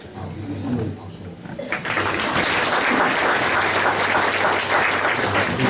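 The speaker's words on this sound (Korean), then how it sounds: "사모님 박수." A church congregation applauds the pastor's wife during a Sunday afternoon service; after a quieter start with low hum, loud sustained clapping swells in around two seconds and continues steadily to the end.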